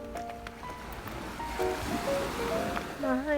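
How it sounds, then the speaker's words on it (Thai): Sea waves surge and wash onto the beach at Hua Hin during a storm, a loud, continuous roar with a tonal melody playing over it. "ตอนนี้นะคะเรามาตรงทะเล"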